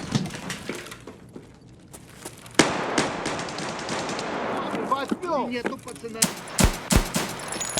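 Video game gunfire breaks out during a fight with scavs in a factory area: sharp shots and rapid bursts, loud and close, over a busy in-game background with some faint voice-like sounds.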